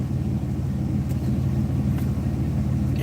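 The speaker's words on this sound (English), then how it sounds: "Now I'm dead in the middle of freaking traffic." Road traffic rolls past in a continuous low rumble of car engines and tires, steady and fairly loud throughout with no clear speech.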